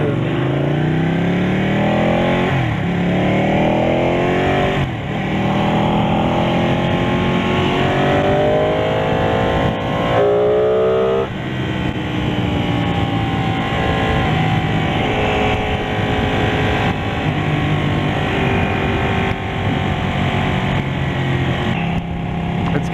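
A 2018 Ducati Panigale 899 motorcycle engine screams at high RPM during a test ride, its loud rising pitch sweeping upward through gear changes, continuous and close with wind rush behind.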